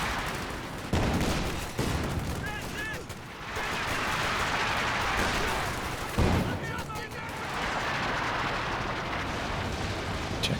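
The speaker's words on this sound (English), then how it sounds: "In comes the walking Stuka. Doesn't end up hitting too much." Walking Stuka rocket artillery from Company of Heroes 2 in a 2v2 match, a few sharp rocket impacts and crackling fire spread across ten seconds amid battle noise, moderately loud, with a commentator's voice under parts of it.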